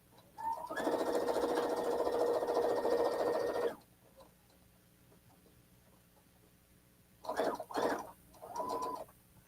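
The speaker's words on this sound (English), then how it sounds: "Now I'm just running it through my machine again to sew a 1/4-inch seam on the other side of that line." A sewing machine runs a quarter-inch seam in one steady burst of about three seconds, loud and close, followed by quiet and a few brief handling knocks.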